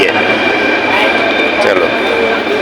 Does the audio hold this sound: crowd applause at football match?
no